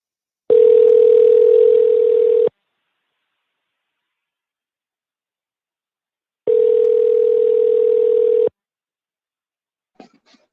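Telephone ringback tone heard while a call connects: two loud, steady electronic tones, each lasting about two seconds, separated by a four-second silence, with a faint click at the end.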